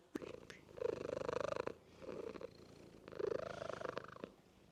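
A cat purrs steadily up close, the rumbling rising and falling in slow cycles with each breath, quiet and continuous.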